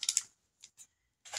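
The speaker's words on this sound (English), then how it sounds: "Let me get my scissors." A few short, crisp snips and clicks, close and quiet, separated by brief silences.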